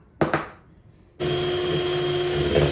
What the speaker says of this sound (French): Donc on fouette